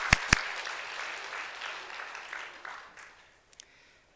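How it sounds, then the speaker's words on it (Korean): A church congregation claps during a Sunday service, starting with two sharp, close claps and then softer, quieter applause that gradually thins out and fades, with a few scattered claps near the end. "우리 하나님께 영광의 박수"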